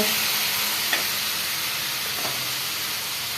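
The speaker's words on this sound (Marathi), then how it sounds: "टोमॅटोला पण छान हलवून आणि परतून घ्यायचं मस्त" Spinach and tomatoes frying in a pan make a constant, fairly loud sizzle, with a couple of soft stirring knocks and no talk.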